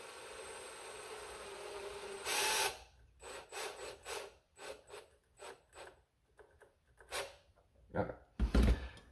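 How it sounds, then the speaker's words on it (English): A handheld power drill bores into a Nerf Rival Forerunner blaster, with a short burst followed by a series of brief, stop-start drilling pulses of grinding and rasping, close up, and a louder final burst. "you're drilling something into it"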